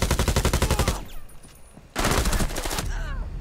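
Rapid automatic gunfire from Rainbow Six Siege, loud and close, with a sustained burst, a short lull, then a second burst trailing off.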